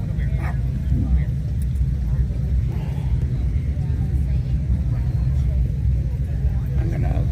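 Motorcycles rumble in together at an outdoor Memorial Day ceremony in a park, a continuous loud low engine drone with no single bike standing out, and faint voices in the background.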